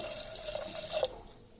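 Water trickles and splashes over lentils in a small pressure cooker: a short, close, gentle pour that tapers off.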